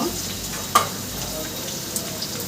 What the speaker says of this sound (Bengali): পেঁয়াজটা খায় লাল লাল ভেজে এসেছে আর একটু আমি ভেজে নেবো সুন্দর করে